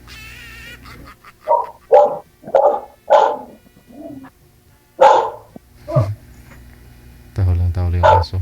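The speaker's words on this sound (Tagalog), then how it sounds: "Tahol yung aso." A dog barks in a run of sharp, separate barks at close range, with short pauses between them and a brief whimpering yip, and a voice speaks near the end.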